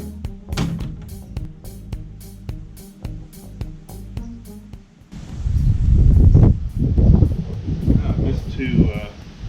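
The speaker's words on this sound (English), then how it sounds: "it is really windy out here" Blustery wind roars and buffets the microphone outdoors, rising to heavy gusts in the second half, with rhythmic thumps and some talking early on.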